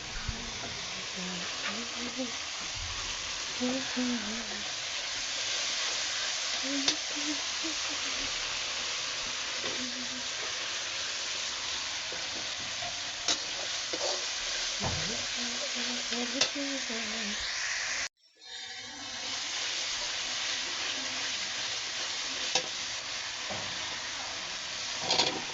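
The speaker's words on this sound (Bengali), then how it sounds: "এখন মশলাটা কষিয়ে নিচ্ছি।" Spice masala sizzling and being stirred in a pan after fish was fried, with a steady crackling hiss and frequent scraping of a spatula, a brief cut near the end before the sizzle resumes.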